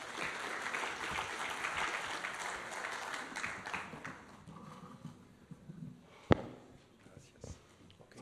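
Audience applause greets a guest speaker at an energy forum session, a dense, moderately loud clapping that fades after a few seconds into murmuring room noise, with a single sharp knock near the end.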